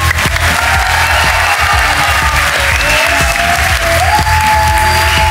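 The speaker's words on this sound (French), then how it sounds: "Un tonnerre d'applaudissements pour Ed et Eda." Loud, sustained audience applause with some cheering fills a stage show for young contestants as two team leaders are welcomed back onstage, a dense continuous clatter of clapping throughout.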